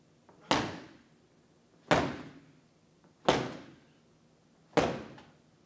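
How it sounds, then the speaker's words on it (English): Four medicine ball slams in a conditioning workout, heavy thuds hitting the floor at a slow, even pace about every second and a half, each ending in a short decay. "rotational med ball slams, or regular med ball slams followed by rotational"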